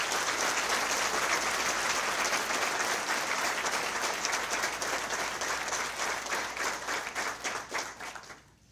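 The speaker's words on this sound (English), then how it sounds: "So please give them a round of applause." A crowd applauds at a fire department recruit class graduation ceremony, sustained full clapping across the room that holds steady and then tapers off toward the end, with no voices over it.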